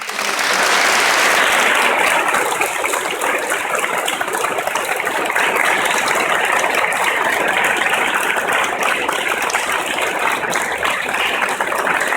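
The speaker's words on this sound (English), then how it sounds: "please join me in a round of applause" A large audience at a Lund University graduation ceremony gives a long, sustained round of applause, a loud, dense and even roar of clapping that carries on without a break.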